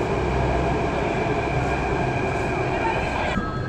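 A Delhi metro train rumbles at a station platform, giving off a continuous heavy rail hum with faint wheel and mechanical tones, and voices murmur underneath.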